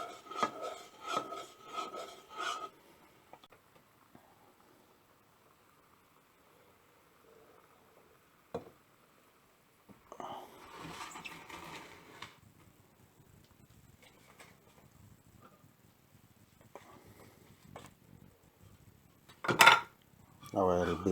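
Stirring moong dal payasam in a pot on the stove: bursts of scraping and rasping against the pot, loud at first, then long quiet gaps broken by a few clinks and scrapes, with a sharp clatter near the end.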